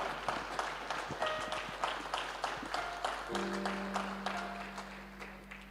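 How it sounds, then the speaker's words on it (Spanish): A church congregation claps along in a steady, moderately quiet patter, with sustained keyboard-like tones ringing over the clapping and a deeper held note entering partway through. "podés dar un aplauso al Señor, hermano"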